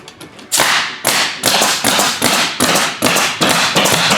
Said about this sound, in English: this is not going to get a redeck, so we're restapling everything down